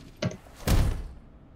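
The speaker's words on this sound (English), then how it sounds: "Okay, kicking door." A door is kicked in during a tactical SWAT shooter game in a hotel: a light knock-like thud, then a heavy close booming slam that rings out and fades to silence.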